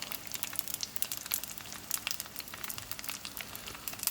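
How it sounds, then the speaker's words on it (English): Potstickers frying in a pan on medium-high heat, a soft, close crackle and sizzle of popping oil, steady and quiet throughout, with no talking. "just so they can fry on that bottom and get little brown is all"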